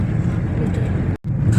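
A car's engine hums loud and close on a road near Radhanagari dam in Kolhapur district, a continuous rumbling drone with a momentary dropout.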